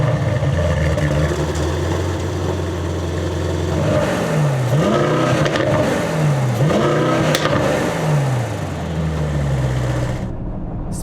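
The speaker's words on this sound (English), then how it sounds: "There is nothing like that AMG sound." A 2021 Mercedes-AMG GLE 63 S engine revs loudly and continuously at night, with several rising and falling pitch sweeps midway before settling back toward a steady drone.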